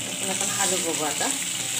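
Stuffed okra (bharli bhendi) fries in a pan while being stirred, a steady crackling sizzle with scraping movements of the spatula, close and moderately loud.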